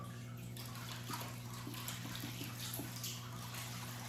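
Fish-tank water pours in a steady splashing stream over a low hum, running continuously at close range with no voices.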